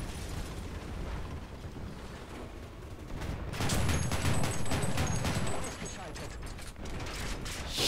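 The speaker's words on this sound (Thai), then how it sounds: "ระเบิดดังบึ้ม" Explosions and gunfire during a tank battle in War Thunder with a Pz. II C tank, loud dense bursts of blasts and clattering mechanical noise swelling in the middle and continuing through to the end.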